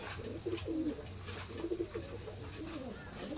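A pair of Teddy pigeons of an imported Oman bloodline coo close by, with soft, low, rolling calls repeating several times over a steady background hum.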